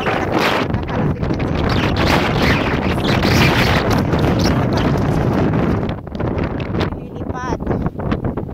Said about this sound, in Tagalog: super lakas ng hangin guys